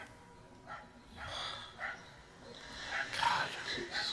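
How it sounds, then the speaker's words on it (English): A dog in the video game Tender Loving Care yaps in a few scattered, muffled barks at moderate distance, mixed with people talking. "Shut that dog up."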